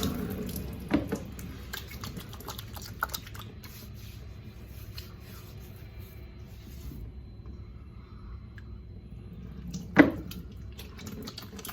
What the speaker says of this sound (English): I'm going to take the water off the soap